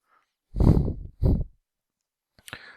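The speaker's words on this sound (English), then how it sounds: "I've really rubbed this pretty thoroughly with the wooden part of my pencil here." A pencil's wooden barrel rubs firmly over paper to transfer a drawing, two loud, close scrubbing strokes followed by a softer brief scrape, with silence between.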